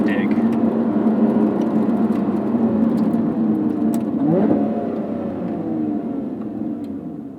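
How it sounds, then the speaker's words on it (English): A 2020 Lotus Evora GT's exhaust roars loudly as it accelerates hard from a standstill, engine pitch climbing through gear changes, then gradually fading as the car moves away. "Beautiful exhaust note."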